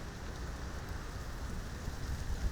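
Steady rain falls across an outdoor rally in a constant soft hiss of drops, with no voices over it.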